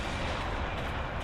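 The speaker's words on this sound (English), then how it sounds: "the artillery hit and it just torched him" Artillery fire hits in a Warhammer 40K battle game, a continuous heavy rumble of blasts and booms. It is loud and dense throughout, with no pauses.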